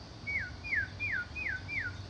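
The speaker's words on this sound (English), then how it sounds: "Oh, I found a birdie, but he's not a bluebird." A small orange bird chirping outdoors, with five evenly spaced, descending whistled chirps, clear and close over a low background hum.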